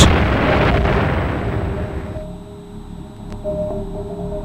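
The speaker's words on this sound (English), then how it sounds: "The bombardment was ceaseless." Artillery bombardment thunders in a deep, rolling blast that fades over a couple of seconds, then leaves a low hum with a faint crack and a smaller boom near the end.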